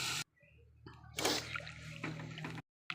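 Water is poured into a cooking pot holding taro, lentil dumplings (bori), mustard paste, salt and turmeric, a brief soft splash and slosh lasting about a second, quiet and close.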